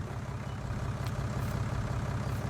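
Tractor engine idling in Farming Simulator 19, a steady low rumble with a throbbing, pulsing texture that stays loud and continuous throughout, with no talk over it.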